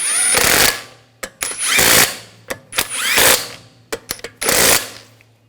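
Pneumatic impact wrench tightening wheel lug bolts on a 2007-2013 BMW X5 during front upper control arm replacement, firing four loud rattling bursts, each about a second long, with short clicks and pauses between them and no talk.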